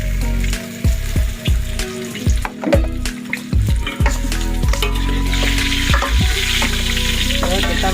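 Ikan semar (pilok) fish sizzles in a hot pan for an Aceh-style stir-fry, with repeated scraping stirs of a spatula, a steady loud crackle building toward the end.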